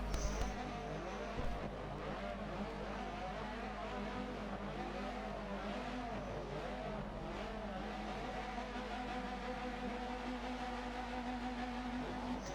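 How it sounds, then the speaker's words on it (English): Several touring car engines drone and rev together at a distance on the grid at the Nürburgring GP circuit, a sustained roar that stays fairly even throughout, with no voices. "There we go, revs are climbing."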